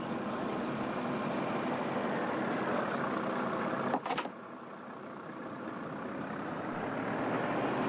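A bus engine drones steadily while driving in the game The Bus, a continuous low whirring hum with a brief clunk midway, moderately loud and without talk.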